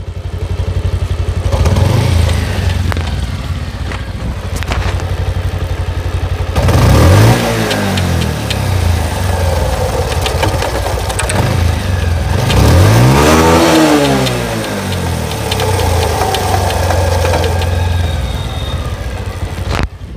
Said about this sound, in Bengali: কিন্তু আরেকটা সমস্যা হলো চেন বাড়ি মারে,